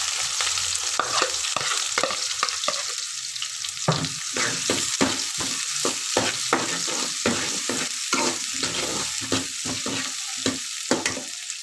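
Onions frying in hot oil for tikka boti, a continuous loud sizzle broken by repeated rhythmic spatula scrapes and stirring strokes, with no speech.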